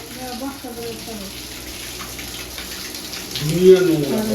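Water runs steadily from a newly fitted tap pipe in a steady hiss, with a voice talking over it and a louder burst of speech near the end.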